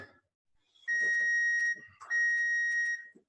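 An electronic bell rings in the background in two long, steady bursts of about a second each, separated by a short gap, with faint movement noise around them.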